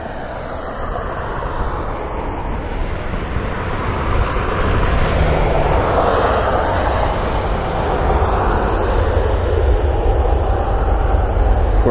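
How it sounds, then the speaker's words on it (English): An Airbus A321neo airliner lands on runway 24 right in falling snow, giving a steady, loud, broadband engine and airflow roar that swells slightly midway and holds throughout. "A321-1975 inbound from Fort Lauderdale."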